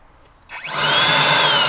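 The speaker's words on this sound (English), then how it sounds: "see, look, I got the blower right here." An air blower spins up over about half a second, then roars loud and steady, pushing air through a custom intake on a Mercedes SL55 AMG.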